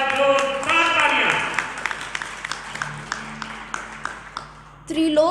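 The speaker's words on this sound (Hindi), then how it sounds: "एक बार जोरदार तालियां।" An audience at a spiritual satsang gathering claps in steady, rhythmic applause after a sung or tonal voice fades, ending with a brief louder sound.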